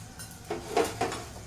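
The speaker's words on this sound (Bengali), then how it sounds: "আমি একটু মশলাগুলো একটু গুলে নেব।" A spoon clinks and scrapes in a bowl while stirring turmeric and spices into water, with a few light taps close by over a quiet room.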